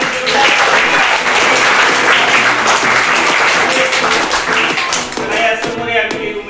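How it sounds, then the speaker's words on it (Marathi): Students in a village primary school classroom clap together for the winner of a class captain election, a loud continuous burst of many hands with steady rhythmic beats throughout, close and filling the room. "चला 3 टाळ्या वाजवून सर्वांनी"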